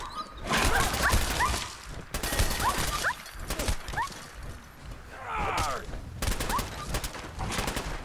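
In Fallout 4, a dog barks repeatedly amid bursts of rapid gunfire, the sharp volleys and yelps overlapping in a busy, continuous combat mix.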